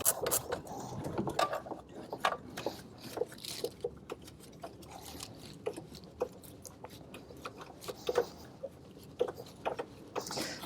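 A hand tool, likely a ratchet, loosening the bolts of a VW serpentine belt tensioner in a salvage yard, with irregular clicking and ratcheting bursts and metallic taps, close and moderately loud without speech.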